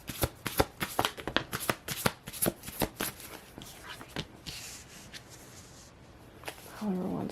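Tarot cards are shuffled by hand in a fast run of crisp, riffling snaps. The flurry is dense and close for several seconds, then thins out, and a voice is heard briefly at the end.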